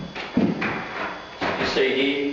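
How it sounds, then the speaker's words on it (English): A kitchen cabinet door is unclipped from its hinge and lifted off during a renovation, giving a few close clicks, knocks and a dull wooden thud, with someone talking over the handling. "you can just flick that up and the doors come off"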